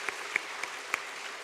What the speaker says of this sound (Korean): 이분들 위해서 박수 한번 보내주세요.